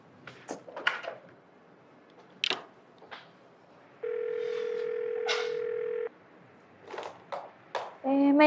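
A telephone dial tone plays steadily for about two seconds while a call is placed, with short bursts of speech coming before and after it.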